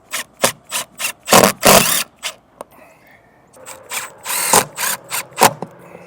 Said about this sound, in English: we're going to take our button head square bit screws, and we're going to install it on the rail